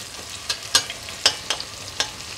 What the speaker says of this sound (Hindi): इसको थोड़ा सा भून लेते हैं।